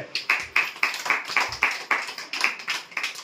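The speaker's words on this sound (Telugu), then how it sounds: "క్లాప్స్ కొట్టండి" Close, rhythmic clapping at a birthday celebration, a steady run of about a dozen sharp claps at an even pace, with no talking over them.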